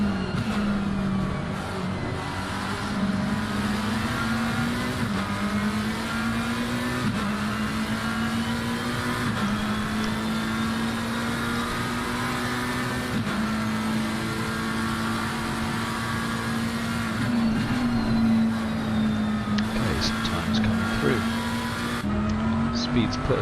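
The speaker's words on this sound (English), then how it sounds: "And we're on board with Donaldson in his McLaren" McLaren GT3 race car engine in Assetto Corsa Competizione at Zandvoort, an onboard drone that climbs and drops through gear changes for a long stretch, with a commentator talking over it throughout.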